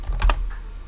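A few quick keystrokes on a computer keyboard, close and clear, a short burst of taps followed by a fainter trailing click.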